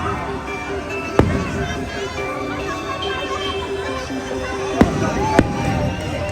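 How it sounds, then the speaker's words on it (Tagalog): A few sharp fireworks bangs pop at a distance, one early and two close together later, while people chatter excitedly nearby. "Oh my God, fireworks na."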